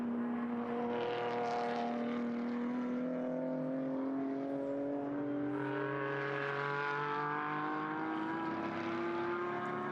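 Several GT4 race cars, including a McLaren Artura and an Audi R8 GT4, scream past at Phillip Island circuit, their engine notes rising steadily in pitch as they accelerate and overlap, loud and continuous throughout.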